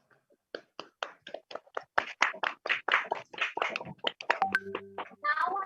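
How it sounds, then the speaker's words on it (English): Audience members at a felicitation ceremony for a peace summit give a round of applause, sharp distinct hand claps that start sparse, build quickly into brisk clapping, then blend with a brief electronic tone near the end. "Let's give our heartiest congratulations to all with a huge round of applause"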